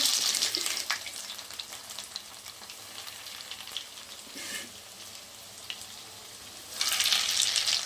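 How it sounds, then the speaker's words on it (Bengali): Chicken tikiya patties frying slowly in shallow oil over low heat, a continuous crackling sizzle that swells in bursts, louder toward the end, with no talking. "এটা ভাজতে হবে ধীরে ধীরে, তারপরে জোর দিতে হবে"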